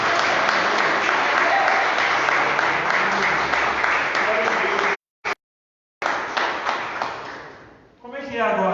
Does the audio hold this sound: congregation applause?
yes